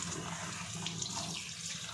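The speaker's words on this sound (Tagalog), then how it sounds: "And ngayon, hugasan nga natin." Running tap water splashes steadily over freshly harvested garden plants being rinsed, a close, continuous broadband rush with no voices.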